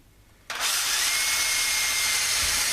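A power drill bores into wood to make a new wooden patress for a vintage Bakelite switch, starting abruptly after a quiet moment and then running as a steady, loud whine.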